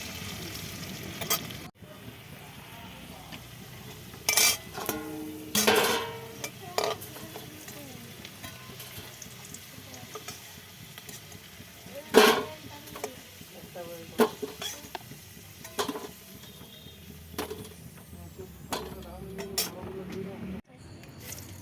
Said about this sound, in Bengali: সেই জন্য মাংসর আলুটা আগে ভেজে নিচ্ছি